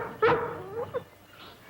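A dog in a kitchen carries on with a sharp yip followed by fainter whines and a short bark, close by and fairly loud with pauses between.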